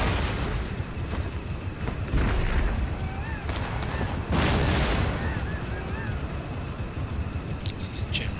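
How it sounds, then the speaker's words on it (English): Artillery fire in the strategy game Empire Total War: heavy booming cannon blasts, several loud rumbling bursts spread apart, with a lighter pop or two and faint battlefield whistles between them. "we can watch the artillery destroy them"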